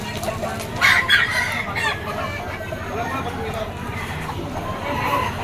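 Roosters crow and chickens cluck at a pet market, with several loud crows standing out against a dense backdrop of clucking and someone talking throughout.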